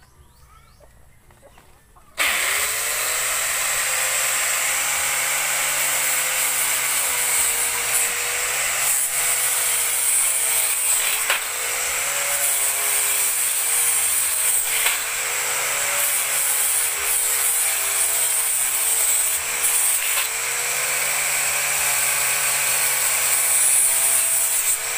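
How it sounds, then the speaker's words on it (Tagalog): An angle grinder starts abruptly after a quiet moment and then runs loud and continuous at close range, its pitch dipping slightly now and then as it bears into the work during furniture making. "Ito, mayroong grinder si Camilo nga pinahiram sa akin"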